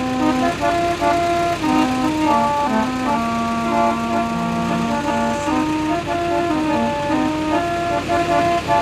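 An antique 1970s multi-tone horn mounted on a diesel truck honks loudly and close in a series of sustained, stepping chord-like blasts, with brief breaks between tones and background vehicle noise.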